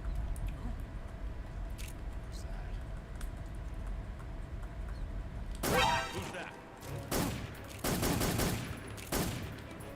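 Unsuppressed gunfire in Metal Gear Solid 3, a few sharp shots bursting out near the end after a stretch of quiet game ambience, with talk over the background.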